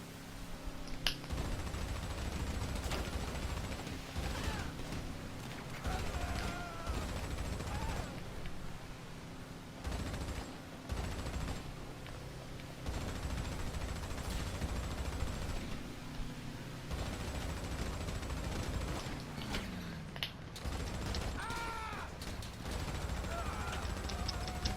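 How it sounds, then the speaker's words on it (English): Gunfire in GTA 5 during a yacht mission, rapid bursts of shots over a continuous noisy game background, with a voice speaking at times. "I got people shooting me."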